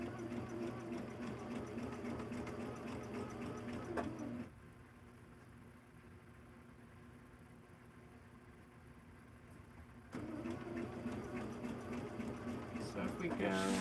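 A sewing machine stitches fabric with a steady mechanical whir, pausing briefly in the middle and then running again. A voice talks over it at times.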